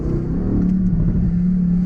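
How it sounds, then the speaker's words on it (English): A 2018 Mercedes GTC's big engine revving under hard acceleration in manual mode: a deep, loud, steady roar held close to the microphone, rising slightly in pitch. "That's what you want from a car like this, when you hear that big engine."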